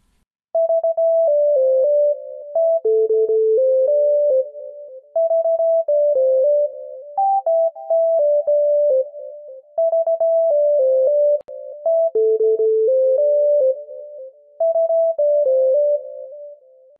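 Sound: melody played on a MIDI keyboard

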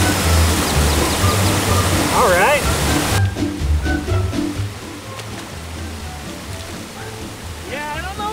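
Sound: water pouring into a condom

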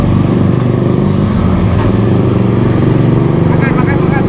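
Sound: Yamaha RX King motorcycle engine

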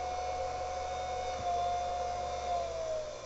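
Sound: mini Thunderbolt siren lobe blower winding up

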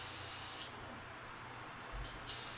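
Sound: aerosol spray on hair clippers

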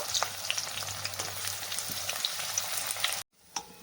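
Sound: onions frying in oil and ghee until golden

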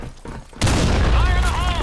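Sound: grenade explosion in video game BlackShot

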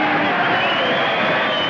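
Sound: boxing crowd yelling for the main event

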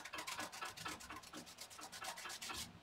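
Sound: rubbing masking fluid off watercolor paper with finger

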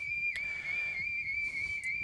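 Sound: shepherd's flank whistle at a sheepdog trial

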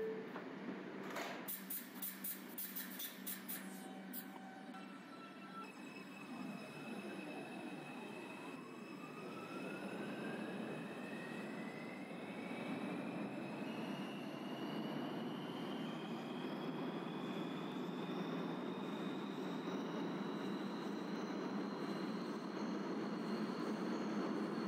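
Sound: subway train running in a video game

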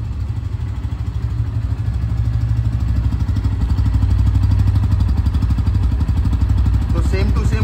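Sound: Bajaj Pulsar N160 motorcycle exhaust sound

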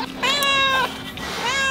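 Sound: cat meowing

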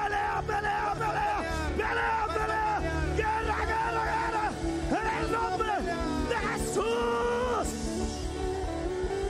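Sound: congregation shouting a war cry

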